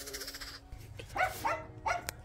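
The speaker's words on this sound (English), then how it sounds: "There's my dog." A dog gives three or four short barks outdoors on a cold day, fairly close, spaced evenly over a low background hum.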